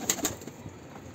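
A young four-month-old pigeon being handled gives two quick soft coos or flutters near the start, close and faint, followed by quiet rustling.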